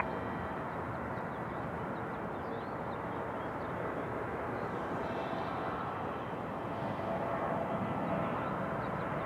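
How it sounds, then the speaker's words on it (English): An Airbus A319 from Miami comes in to land at Raleigh-Durham International Airport, heard as a steady, fairly faint broadband jet roar that holds evenly throughout, with no talking. "So it's an A319 coming in from Miami, Florida."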